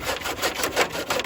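A hand saw rasps through wood in quick, regular back-and-forth strokes, close and fairly loud, with no voices.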